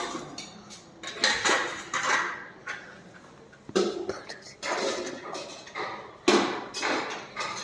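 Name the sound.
lid placed over pan of greens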